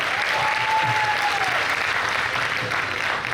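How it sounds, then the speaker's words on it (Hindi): Loud, sustained applause from a literary festival audience honoring actress and singer Ila Arun's voice, dense clapping filling the whole stretch with a faint tonal whistle near the start. "ऑफ कोर्स एक बार जोरदार तालियां मैम की खूबसूरत आवाज के लिए"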